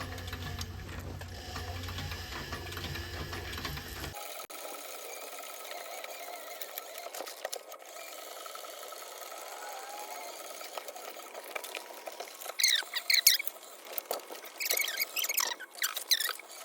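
Sewing machine stitching red thread into a leather jacket, a steady fine mechanical whir running throughout, with louder, faster bursts of stitching toward the end.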